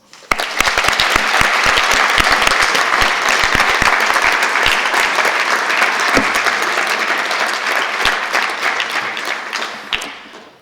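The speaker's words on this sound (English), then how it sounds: "So, another applause" An audience at a drawing award ceremony applauds in a long, dense wave of clapping, loud and steady for about ten seconds before tapering off, with scattered individual claps standing out.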